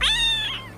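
A single cat meow, loud and close, a drawn-out tonal call that rises briefly and then fades over under a second, over a low steady hum.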